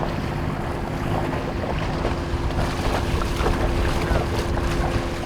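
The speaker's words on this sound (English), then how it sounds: "Of course, it's quite windy." Strong headwind rushes over a sailing boat heading upriver among small catamarans, a steady buffeting roar mixed with water and motor noise, with a voice talking faintly over it.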